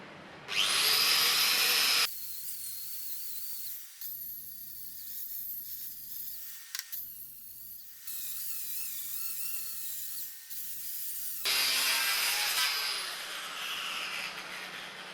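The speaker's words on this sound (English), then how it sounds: "I began with the wire wheel and quickly moved on to the flap disc." Wire wheel and flap disc grinding rust from the rear left wheel arch of a 1983 Mercedes-Benz W123 280CE, a loud, harsh, close whine that cuts in and out in bursts with short pauses between passes.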